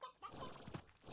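Briar hens in the video game Slime Rancher cluck in short, soft bursts, fairly faint against a busy game-world background.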